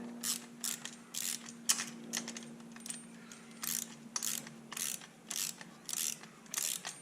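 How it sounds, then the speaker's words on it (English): Ratchet clicking in quick bursts as parts are bolted into a Porsche 914 build with an LS3 engine, close and crisp, with short pauses between runs of clicks and a faint steady hum underneath. "So this is, again, kind of like plug and play, super simple stuff now. Just bolting in."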